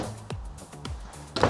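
RV kitchen cabinet doors for cooking pans being opened and shut, a few close wooden clunks and knocks spaced apart with a sharper rattle at the end.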